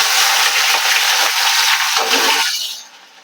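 Ajwain, garlic and onion hit hot oil with a loud, dense sizzle that runs steadily for about two and a half seconds before dying down sharply, with a few faint clinks mixed in.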